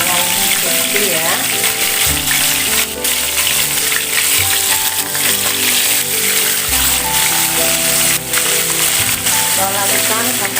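Loud, continuous sizzling of chicken frying in hot oil, with a dense crackle and occasional stirring sounds.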